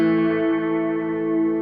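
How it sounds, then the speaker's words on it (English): A guitar chord sustains through a multi-tap delay, its echoes ringing out in a steady, loud, shimmering wash with no talk. "You can hear that kind of like that echo kind of building up like that."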